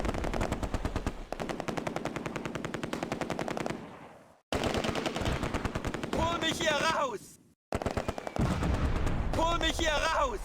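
Heavy, sustained machine-gun fire rattles in dense bursts with artillery thuds in the Close Combat: A Bridge Too Far game, a World War II Oosterbeek battle, briefly cutting out twice before resuming loud and close.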